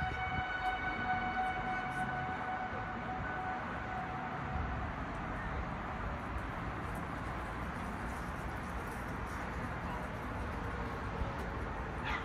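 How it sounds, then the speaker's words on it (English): Steady wailing tornado warning sirens hold over a continuous broadband roar, sustained for the whole stretch at moderate distance, in Richardson, Texas. "Sirens just shut off, so yeah, tornado warning."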